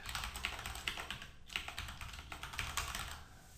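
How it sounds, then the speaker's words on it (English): Rapid typing on a computer keyboard, close and fairly quiet, with steady irregular key clicks and a few louder taps continuing throughout and no talk. "I can just start typing."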